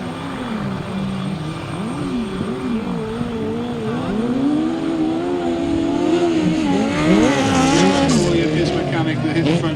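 Engines of sidecar outfits at a grasstrack charity race whine and rise in pitch as the machines get into position and pull away, growing louder over a steady crowd background while an announcer talks.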